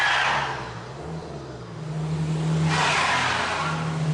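A car sliding on ice with traction control switched off, engine revving and surging as tires hiss and squeal, rising in two loud waves at close range with no talking.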